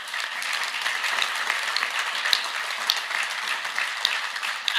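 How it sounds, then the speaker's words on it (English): Audience applause during a presidential speech on infrastructure in New York City, a dense, steady round of clapping from a large crowd, sustained and even throughout with no speech over it. "I think that gets a round of applause"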